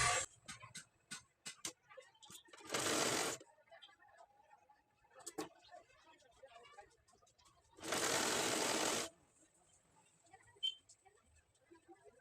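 Sewing machine stitching a plain blouse in two loud, steady bursts of whirring lasting about a second each, separated by quiet handling clicks and fabric rustles, with a faint voice in between.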